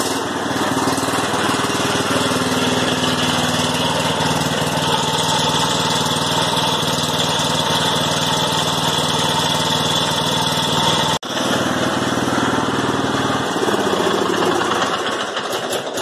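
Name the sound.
Cub Cadet XT1 LT42 lawn tractor engine running after oil change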